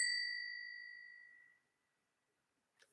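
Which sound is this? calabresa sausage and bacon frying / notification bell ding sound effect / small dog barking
notification bell ding sound effect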